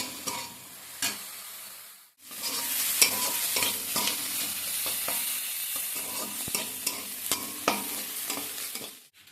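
Fenugreek greens fry in oil in a wok, giving a loud, continuous sizzle broken by a brief quiet gap. Scraping stirring strokes recur in an irregular rhythm close by.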